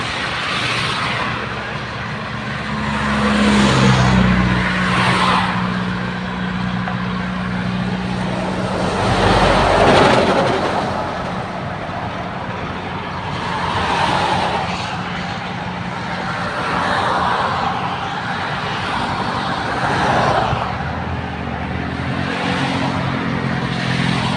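Slow traffic rolls along Mittraphap road: a loud, continuous rumble of engines and tyres swells and fades as vehicles pass close by in waves, with one heavier engine droning low and no voices.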